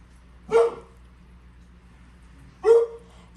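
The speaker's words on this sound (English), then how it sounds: "It's okay if she's barking." A dog on a farm gives two short, sharp barks about two seconds apart, moderately close and loud against a quiet background hum.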